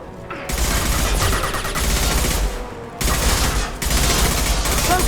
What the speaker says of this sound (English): Did he shoot with the shotgun at that range?